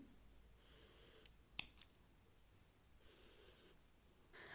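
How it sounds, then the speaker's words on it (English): Scissors cut through yarn at the end of a crocheted cowl neck warmer, giving two quick, close snips in a row against an otherwise faint, quiet background. "cut the yarn"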